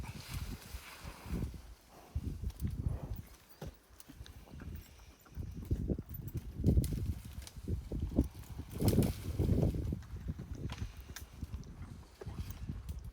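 Horse hooves clip-clop on a walk during an outdoor safari ride, giving an irregular series of close, moderately loud steps with rustling and movement noise between them.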